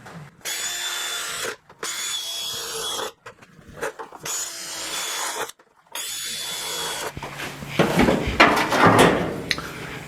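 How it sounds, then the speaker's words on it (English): A power drill bores holes through a sheet-metal floor panel in a run of separate whining bursts, each a few seconds long with short silences between, ending in rougher, noisier grinding. "I'm going to drill 25 holes in this piece of sheet metal."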